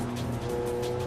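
A Porsche overtakes a Nissan on the Autobahn Country Club race track during a track day, engine noise steady and close with a broad roar and faint tire hiss throughout.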